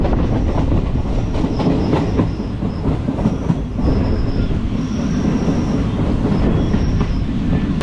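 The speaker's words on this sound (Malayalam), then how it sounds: "അങ്ങനെ നമ്മൾ അമ്പലപ്പുഴ ഉണ്ണിക്കണ്ണൻ്റെ നാട്ടിലെ റെയിൽവേ സ്റ്റേഷനിലേക്ക് എത്തിക്കൊണ്ടിരിക്കുകയാണ്." The 06450 Kayamkulam–Ernakulam unreserved express runs steadily, heard from on board as it approaches a station in Kerala, with a continuous loud rumble, rhythmic wheel clatter and faint high squeals throughout.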